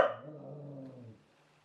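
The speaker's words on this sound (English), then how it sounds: "You're not going out because you're just barking." A dog indoors gives one sharp bark close by, which trails off into a brief low growling rumble before quiet.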